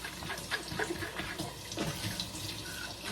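Kitchen sink tap running while dishes are washed, a steady splashing water stream broken by clinks and knocks of handled dishware, close and moderately loud, with no talking.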